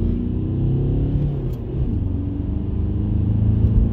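An Audi A4 after a service, its engine giving a loud, close, steady low drone and rumble as the car accelerates, with no one speaking.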